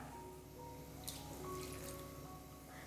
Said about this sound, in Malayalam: വെള്ളം ചേർത്ത് കൊടുക്കാം